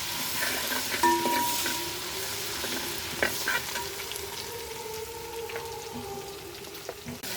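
Ginger, garlic and green chilli sautéing in a pan give a steady light sizzle, broken by occasional scraping stirs and a few sharp clinks against the pan.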